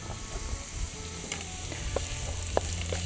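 Onion cooks in a pan for a vegan coconut peanut pasta, with a steady, close sizzle and a few sharp pops and scraping clicks, with no voices.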